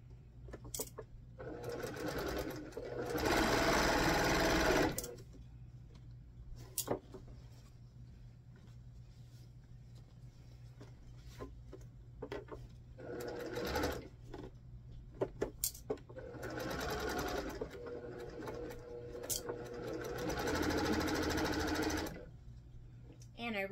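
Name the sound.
sewing machine stitching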